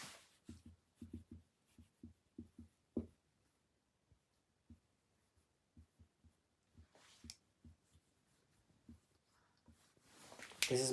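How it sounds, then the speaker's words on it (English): Marker or chalk strokes tap and scratch on a board while a trigonometry problem is written out, in quiet, irregular bursts of short strokes separated by pauses, with no talking. "Let me write it nicely."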